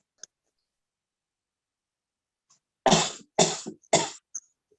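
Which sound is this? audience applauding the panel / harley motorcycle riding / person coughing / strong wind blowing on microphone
person coughing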